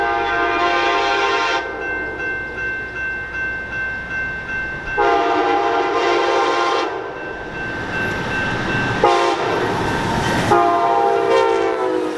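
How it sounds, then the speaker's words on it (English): Amtrak Wolverine passenger train number 355, a short three-car set of Venture cars with a baggage car, passing with repeated loud horn blasts over the steady rumble and clatter of the cars. "Amtrak Wolverine number 355 is seen here with a short, 3-car set of new venture cars, and a Michigan rarity, a baggage car used solely for its extra axles"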